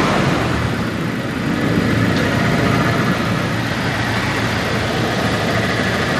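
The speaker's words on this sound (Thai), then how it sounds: "สตาร์ทเครื่องดูนี" A car engine idles steadily just after being started, with a loud, continuous low rumble and no speech over it.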